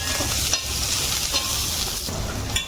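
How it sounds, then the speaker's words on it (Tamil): Five or six garlic cloves sizzle with softened onions in a pan for a kurma. The frying hiss is close and steady, broken by a few short stirring scrapes. "இந்த அளவுக்கு வெங்காயம் வதங்கின உடனே அதில் ஒரு 5-6 பல்லு பூண்டையும் வதக்கிக்கிறேன்"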